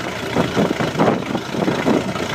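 A stern drive boat motor runs during a freshwater flush, a loud, steady, rough idle with a slightly pulsing throb and no talking.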